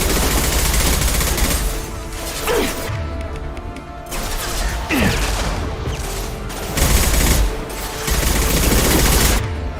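Video game gunfire in bursts: loud, close volleys of rapid shots broken by short gaps, with heavy impacts and crashes between them.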